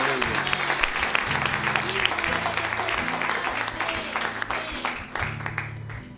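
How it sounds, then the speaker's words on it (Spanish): A church congregation in Santiago, Chile applauds steadily, dense clapping that stays fairly constant throughout, with voices mixed in underneath. "Un aplauso al Señor"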